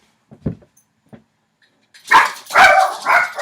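Several dogs bark indoors, a few short separate yaps at first, then a burst of loud overlapping barking close by, with no talk over it.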